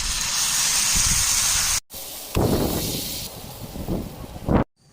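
Appam batter poured onto a hot griddle sizzles in a loud close hiss, cutting out briefly and returning in bursts.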